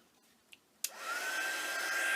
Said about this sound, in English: Alright, I'm going to dry this.